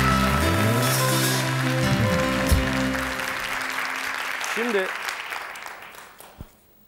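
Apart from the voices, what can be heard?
studio audience applauding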